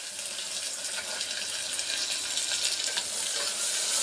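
Vegetables frying for a vegetable pulao, a loud, continuous bright hiss of hot oil with faint stirring, steady throughout and without speech.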